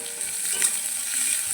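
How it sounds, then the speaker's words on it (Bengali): Chopped onions fry in a pan for a Bengali taro stolon dish, crackling in a steady bright sizzle with faint scraping as they are stirred. No voices are heard. "পেঁয়াজ কুচি দেবো, পেঁয়াজগুলিকে হালকা লাল লাল করে ভেজে নেব"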